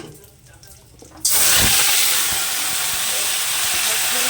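Potatoes go into hot oil already spiced with cumin seeds and bay leaf, setting off a sudden loud, steady sizzle that keeps going close up after a quieter moment of kitchen sounds.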